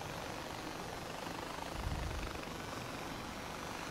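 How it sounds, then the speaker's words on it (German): A high-tech helicopter in the video game Far Cry 4, a faint steady engine and rotor hum with a brief low swell in the middle. "Der Hightech-Helikopter."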